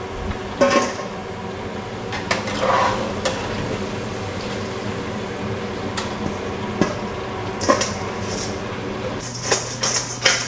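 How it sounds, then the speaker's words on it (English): French fries lifted out of a deep fryer and tossed into a bowl: light metallic clatter and scattered clinks over a low background sizzle, fairly faint and close, with no talk. "Pull your French fries out, toss them into a bowl."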